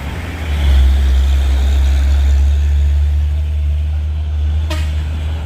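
A red tanker truck pulls away on a hill road with a deep diesel rumble that swells and then holds steady and close. A brief horn toot sounds near the end.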